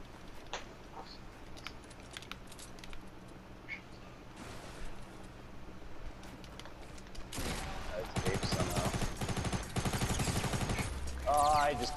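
Gunfire in Fortnite Battle Royale: faint scattered shots early on, then a loud, dense stretch of rapid automatic fire bursts over the last few seconds, with a player's voice faintly in the background.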